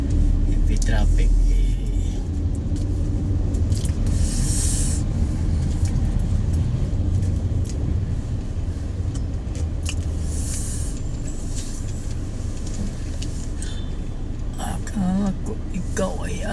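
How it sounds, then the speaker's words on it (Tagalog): Heavy road traffic in Makati: a continuous low rumble of cars and buses with passing engine noise throughout, loud and steady, with voices talking over it. "Heavy traffic."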